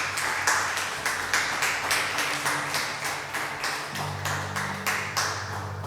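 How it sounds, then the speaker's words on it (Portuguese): A church congregation claps together in a steady, rhythmic beat, each clap sharp and close, while a low sustained musical tone sounds underneath. "Você pode dar uma salva de palmas ao Senhor?"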